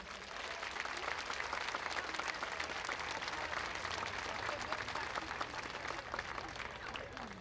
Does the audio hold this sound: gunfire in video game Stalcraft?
no